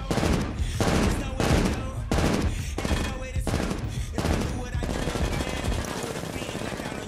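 Rapid gunfire from a movie scene at a range with steel targets and tall barriers, sounding as sustained loud bursts of automatic fire with short gaps between them, followed by a denser clattering stretch.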